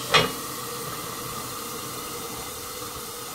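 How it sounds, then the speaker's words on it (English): Water hits a hot covered skillet holding a cheeseburger, giving a brief sharp sizzle followed by a steady, even hiss of steam. "put just a little water in your skillet and cover it up"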